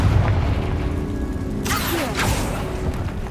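A Confringo spell explosion in Hogwarts Legacy gives a single close boom with a whooshing burst, rising over a low, steady rumble of background game noise.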